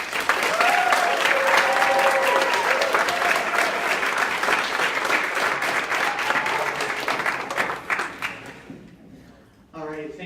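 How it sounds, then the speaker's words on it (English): A university student government vice presidential debate audience applauds the candidates with loud, dense clapping that gradually thins and fades out, followed by a short burst of speech near the end. "Let's give one more round of applause to each of the candidates."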